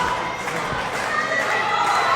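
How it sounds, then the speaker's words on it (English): Wrestling crowd at a CCW Meltdown show in Nashville, Tennessee, roars steadily in support of the wrestler Jackal, a dense wash of cheers and shouts from many voices filling the hall without a break. "The crowd's getting behind Jackal."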